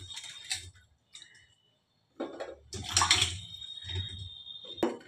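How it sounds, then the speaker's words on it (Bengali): Water lily stems being rinsed in water in a kitchen: intermittent splashing and swishing bursts with small clinks, close and fairly quiet, with brief pauses between. "এবারে আমি আরেকবার জল দিয়ে ধুয়ে নিলাম"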